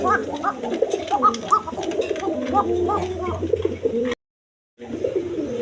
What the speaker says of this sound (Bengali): এখানে আরেক পেয়ার কবুতর আছে